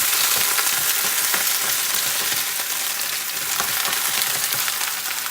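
Garlic and bok choy fry in a hot pan, a loud, continuous dense sizzle with crackling pops and stirring, close up and without talk.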